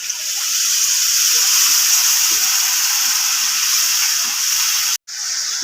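Water poured into dal sizzling in a hot pan, a loud continuous steamy hiss and crackle that holds steady for several seconds, cuts out abruptly for a moment, then resumes, with no talking.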